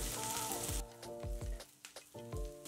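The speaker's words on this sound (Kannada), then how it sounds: "ಈರುಳ್ಳಿ ಸ್ವಲ್ಪ ಕೆಂಪಗಾಗಲಿ. ಜೊತೆಗೆ ಶುಂಠಿ ಬೆಳ್ಳುಳ್ಳಿಯನ್ನು ಹದವಾಗಿ ಹುರ್ಕೊಂಡ್ಬಿಡುತ್ತೆ." Onion, ginger and garlic frying in oil for bread usal, a steady close sizzle broken by a few soft stirring scrapes, with background music tones and no talk.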